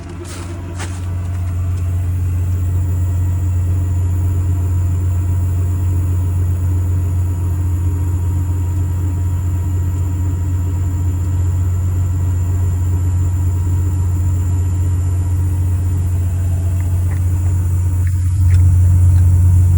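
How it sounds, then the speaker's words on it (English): Air compressor on a 2022 Ram 5500 diesel crew cab crane truck with a Stellar 7621 crane, kicking on and then running as a steady, loud, low mechanical drone throughout, close by with no talking. "Compressor comes on."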